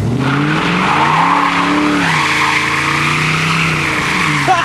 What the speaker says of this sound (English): Did they squeal? Oh yeah, they smoked too!